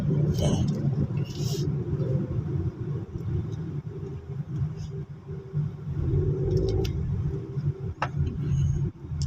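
A Hyundai Accent on a highway road test after a transmission valve body repair gives off a steady, fairly loud engine and road rumble that swells slightly now and then.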